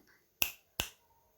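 Two sharp finger snaps, evenly spaced and crisp, in an otherwise quiet room.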